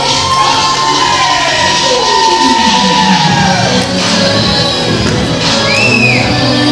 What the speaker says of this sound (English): maybe that's why they're cheering